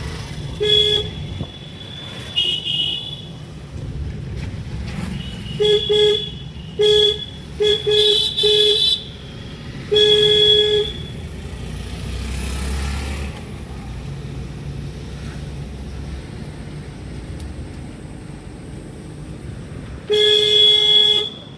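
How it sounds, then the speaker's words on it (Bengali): A car horn on a driving lesson road near Barasat sounds in repeated short toots and a few longer blasts, loud and close over a steady engine and road rumble, with a final cluster of honks near the end. "হর্ন মারো"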